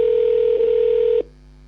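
A telephone dial tone plays steadily and fairly loudly, then cuts off abruptly, leaving a faint line hum.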